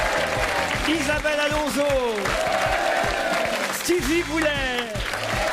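A festival crowd at the Alpe d'Huez comedy film festival applauds comedians, steady clapping under a presenter's voice announcing names, with music-like tones threaded through.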